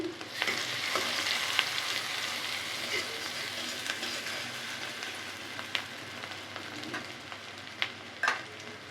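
Boiled greens with ginger and garlic frying in a pan, a soft continuous sizzle with scattered scrapes and taps from stirring, fairly quiet and close.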